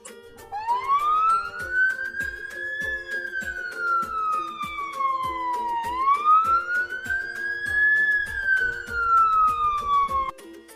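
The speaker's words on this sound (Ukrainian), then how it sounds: "Коли вони поспішають на допомогу, то завжди включають сигнал сирени." An emergency vehicle siren wails, rising and falling slowly twice, loud and near, over a steady ticking pulse.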